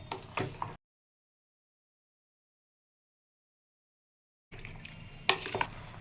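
Pasta being stirred in red sauce in a pan, soft close stirring and faint sizzling in two short bursts separated by a long silent gap.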